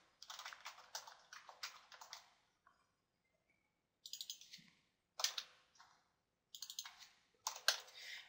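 Quantities get typed on a computer keyboard in short bursts of quick, close key clicks, separated by pauses and a few isolated taps, quiet and with no voice.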